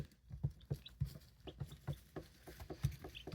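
Soft, rapid chirping peeps from two-week-old baby chicks, repeated in an uneven stream, close by and fairly quiet with no talking.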